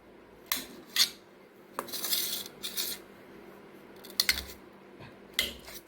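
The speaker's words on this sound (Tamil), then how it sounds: "அதனால கொஞ்சம் சின்ன சின்ன பீஸாக கட் பண்ணிக்கலாம்." A knife taps and clicks against a board in short, irregular strokes, cutting a banana into small pieces, quiet and close, with brief scraping sounds between cuts.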